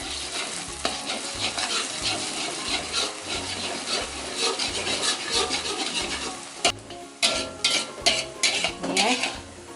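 A utensil stirs and scrapes through cooked egg and rice in a hot pan for fried rice, a continuous sizzle under a busy rhythm of scraping strokes that grow sharper and more clipped toward the end.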